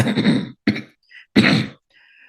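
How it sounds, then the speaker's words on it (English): A person clears their throat and coughs in a few short, close bursts separated by brief pauses. "I have a little bit of a cough"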